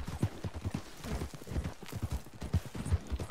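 In a hunting video game, a horse's hooves beat out a quick, even clip-clop of close, punchy thuds across the whole stretch, with no talking over them.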